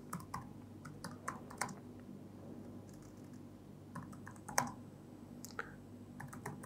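Typing a prompt on a computer keyboard produces quiet, close clicks and taps in uneven bursts, with brief pauses between keystroke runs and no talking.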